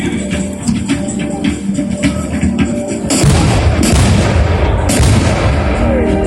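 A heavy ceremonial cannon blast at a peasant revolt reenactment in Donja Stubica, Croatia, cuts through the background bustle partway in, followed by a sustained broadband rumble and roar that stays loud to the end.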